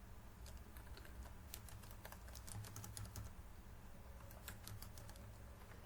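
Computer keyboard typing as a website address is entered into an online form: faint, rapid clusters of light key clicks over a steady background hiss.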